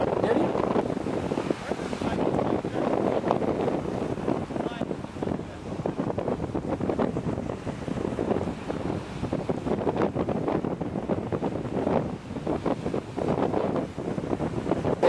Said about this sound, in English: As you can see, the wind is blowing.